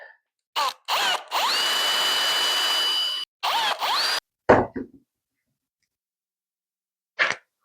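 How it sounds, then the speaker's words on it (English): A power drill bores a small pilot hole near the edge of a wooden strawberry planter, with several short whirring bursts, a sustained high spin, then brief bites and a final quick pulse, close and loud with no talk. "And then I'll just do a little pilot hole"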